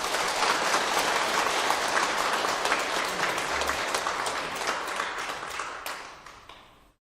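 A church congregation at a Sunday worship service claps in loud, sustained applause that carries evenly, then fades out toward the end.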